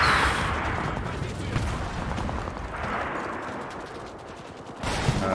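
Sustained, dense gunfire from the Enlisted video game's modern conflict mode, a continuous loud roar of rapid shots and blasts that stays steady throughout, with a brief burst near the end.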